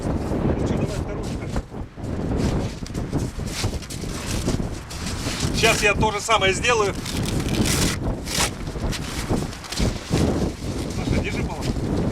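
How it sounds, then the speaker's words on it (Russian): Wind blows in steady, rushing gusts over the microphone while a tent is being pitched outdoors, buffeting loudly throughout as people talk nearby. "Ветер такой."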